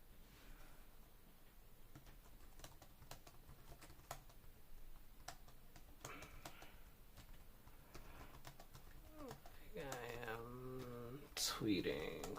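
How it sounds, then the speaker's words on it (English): Light, quick key taps on an iPad keyboard case, an iXTRA model, clicking faintly and unevenly for several seconds before a voice briefly speaks near the end. "Let me do some typing."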